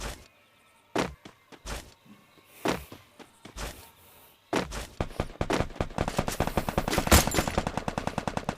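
Gunfire in a mobile shooter game as a bot is shot: a few separate heavy shots with pauses, then a sustained rapid automatic burst of close, loud shots, with no talking.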